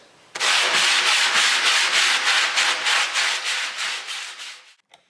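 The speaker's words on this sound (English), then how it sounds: "I can basically hold it like this in the palm of my hand and sand back and forth" Loud, rhythmic back-and-forth rasping of sandpaper held in the palm, hand sanding a wooden subwoofer box, about a dozen even strokes close up, fading out at the end.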